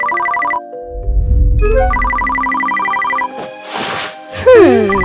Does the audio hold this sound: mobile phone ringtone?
yes